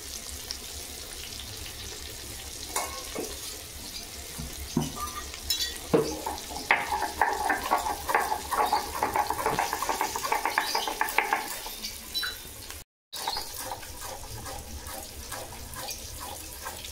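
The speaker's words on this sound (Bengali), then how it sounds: "একটু পটল ভেজে" Pointed gourd (potol) frying in a pan: a close, crackling sizzle that builds and is broken by repeated spatula scrapes and stirring clatter, fading back to a softer hiss.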